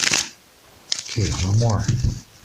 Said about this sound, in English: Let's just shuffle a few times and we'll get started right away.